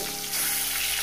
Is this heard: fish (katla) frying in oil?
yes